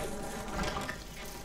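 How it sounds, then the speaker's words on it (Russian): A steady fly buzz in the video game Resident Evil 7: Biohazard, droning close by, continuous and fairly even over a noisy background. "Да блин, муха!"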